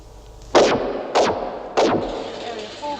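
Three loud gunshots crack out about half a second apart, each sharp report followed by a short decaying echo, close and with no talk over them.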